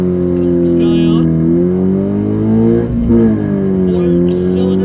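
A four-cylinder Scion race car idles and revs at a drag strip, a loud steady engine drone with a pitch dip and recovery midway. An announcer speaks over it.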